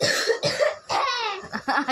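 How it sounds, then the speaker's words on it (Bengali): A person coughs repeatedly at close range in a home kitchen, giving four or five harsh, throaty bursts in quick succession with brief gaps between them. "কাশি কোনোদিন কমবে না"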